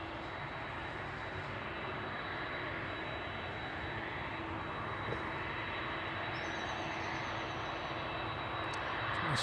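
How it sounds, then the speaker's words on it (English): A DHL Boeing 767 arriving from JFK at East Midlands Airport in the evening produces a loud, steady, broadband jet roar that holds without a break throughout, with no talking. "It's the first arrival of this evening, the DHL 767 in from JFK."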